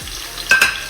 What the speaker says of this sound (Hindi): अब हम इसको प्याज को मसालों को ऑयल में फ्राई करेंगे